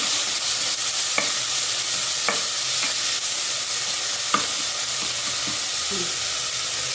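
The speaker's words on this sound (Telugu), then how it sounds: "ఇది పచ్చివాసన పోయే వరకు అల్లంతా కొంచెం ఫ్రై చేసుకుందాము" Ginger sizzles steadily in a hot pan with salt and turmeric, a dense frying hiss with a few soft stirring clicks, close and loud with no talking.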